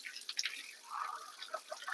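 Water trickles and drips through the clogged filter mesh of a washing machine during a home repair, a light, close, irregular patter of drops running steadily for a couple of seconds.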